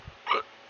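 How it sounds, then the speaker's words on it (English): A single short hiccup-like vocal burst in a quiet indoor setting, brief and fairly close, standing alone. "Whoa, hiccup."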